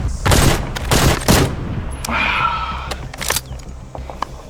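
Gunfire from an AK rifle in the game LotR Return to Moria: a loud close burst of several rapid cracking shots, then a brief hiss and a few scattered metallic clicks and lighter reports trailing off.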